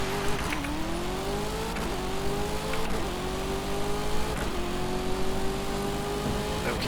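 A hypercar worth about three million dollars accelerates in a race, its engine note climbing steadily in pitch with brief dips at each gear change, loud and continuous throughout.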